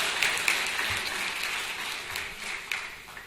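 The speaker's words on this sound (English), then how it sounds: "A big round of applause for His Excellency." An audience applauds at an award ceremony in Bahrain, a dense, steady wash of clapping that carries on throughout with a few sharper claps standing out.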